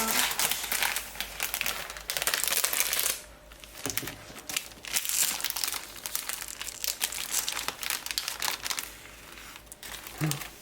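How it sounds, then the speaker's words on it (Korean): A crinkly plastic wrapper on a Pokémon bread being torn and crumpled open, with dense continuous crackling close to the microphone, a brief pause partway through, then more rustling. "생빵을 뜯어볼게요."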